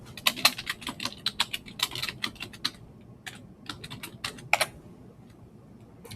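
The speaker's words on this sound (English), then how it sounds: "type in password" A password tapped out on a computer keyboard, a quick run of crisp close keystrokes, then a short pause and a few more scattered taps, with no talking.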